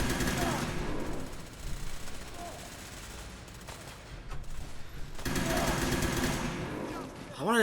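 Gunfire in the Fallout 4 video game, rapid bursts of automatic shots that continue for several seconds and then return after a short lull, with a voice talking over parts of it.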